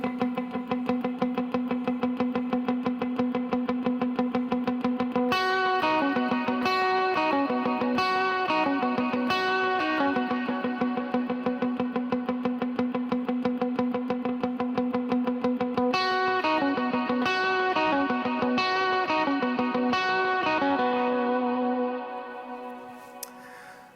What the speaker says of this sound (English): I just have my dotted eighth delay and that bloom reverb and a little bit of a cleaner tone